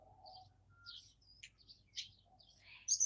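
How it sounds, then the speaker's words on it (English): Small birds chirp overhead around an underground hobby home, scattered short tweets and calls coming faint and a bit distant, with one louder burst at the end. "I think there's a bunch of birds up there."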